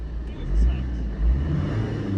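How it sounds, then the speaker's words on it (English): Saab 9-3 convertible diesel idling with a low, steady clattering rumble, close and continuous from inside the car, with someone talking over it. "diesel clatter."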